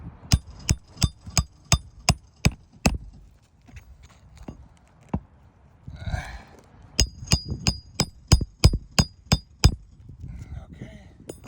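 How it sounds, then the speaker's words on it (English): Hammer nailing roof shingles: a rapid series of sharp, ringing blows in quick bursts, close and loud, with a brief scraping rustle in the middle before the strikes resume. "So I've concluded the nailing process"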